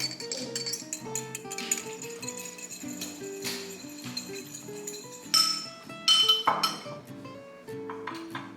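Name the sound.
fork clinking while mixing in bowl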